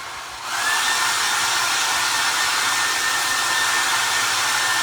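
A hair dryer switches on and blows steadily at full strength, a loud continuous airy roar close by, used to quickly dry a homemade kitchen scale project.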